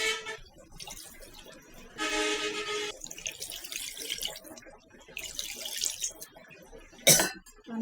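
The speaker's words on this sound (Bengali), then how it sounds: "এখন এখানে আমি একসাথে পানি দিয়ে দিব একবারে।" Water poured into a pan of flat beans already mixed with oil and salt makes two short, fairly faint splashing gushes, followed near the end by a brief sharp clatter.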